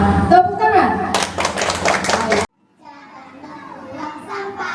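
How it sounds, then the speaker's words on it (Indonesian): Schoolchildren clap their hands together in a group amid singing and young voices, a burst of dense clapping that stops abruptly, then quieter children's chatter and sounds continue. "Tepuk tangan."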